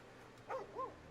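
A dog in the video game Baldur's Gate 3 gives two short, soft yips or whimpering barks in quick succession, faint over a quiet game background.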